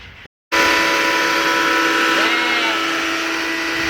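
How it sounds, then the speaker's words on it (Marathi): A loud, steady mechanical drone from a nearby factory in a village setting, a constant broadband roar with sustained tonal hum, starting abruptly after a brief silent gap and continuing unchanged, with faint background sounds. "पण कारखान्याचा आवाज येतोय"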